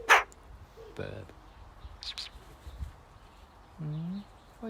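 A bird calls close by with a sharp chirp at the start, followed by a few short, quieter calls spaced apart against a quiet outdoor background.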